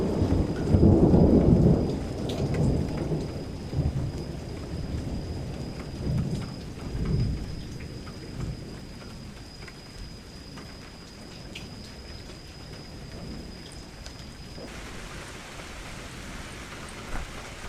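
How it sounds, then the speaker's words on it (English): A rainstorm with thunder, played back as the sound source for audio-reactive brushes: a loud rumble of thunder opens, then steady rain hisses and patters, fading slightly toward the end, with no talk. "I was trying to simulate essentially a rainstorm."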